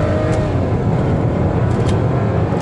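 A VW Polo TSI with a 1.0-litre three-cylinder engine and six-speed gearbox accelerating on the road, a steady loud engine drone with road and wind noise from inside the car.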